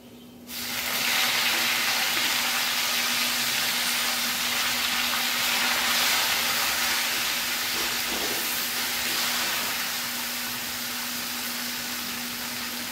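Jute leaves hitting hot oil with fried crushed garlic give a sudden loud, broad sizzle that holds steady and close, easing slightly toward the end, with no talking.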